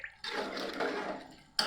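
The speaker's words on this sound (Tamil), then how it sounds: "அதனால் தண்ணி அதிகமாக விட்டுறேன்" Water poured into a simmering goat-head curry, one short, steady gush with a splashy, bubbling texture that stops abruptly, followed by a brief new splash at the end.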